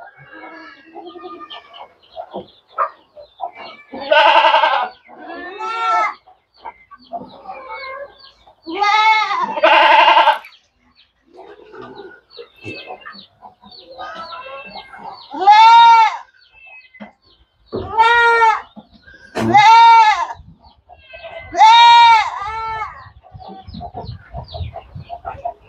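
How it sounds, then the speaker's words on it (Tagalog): Up close and loud, a goat bleats in repeated harsh, wavering calls, with shorter bursts in between, and quieter farmyard noise fills the gaps. "Itong kambing na to guys, napakaingay nito guys."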